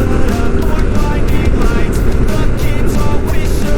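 A Yamaha Tenere 700 motorbike accelerates on a slippery road in the Southern Vales of South Australia, a loud, steady engine drone close to the rider and mixed with wind rush.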